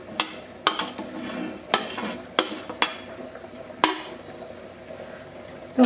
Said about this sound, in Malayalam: ഈ മാങ്ങ ഞാൻ ഇട്ട് കൊടുക്കാം കേട്ടോ.